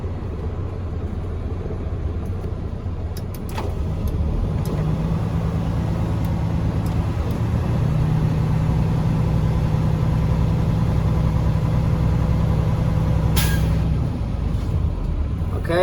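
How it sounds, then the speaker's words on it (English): A truck engine idles with a low rumble, then rises a few seconds in and holds at a steady higher revving drone, kept under 1500 RPM during an air brake governor cutout test. "I will rev my engine no more than 1500 RPMs because it could damage my engine"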